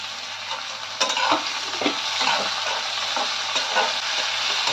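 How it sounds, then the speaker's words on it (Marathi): Onion, tomato and chili with curry leaves sautéing in a pan for a Marathi wet shrimp recipe: a steady close sizzle with repeated scraping stirs and clinks of the spoon, no talk. "कांदा आणि टोमॅटो आपला मऊ होईपर्यंत परतत राहायचं थोडं"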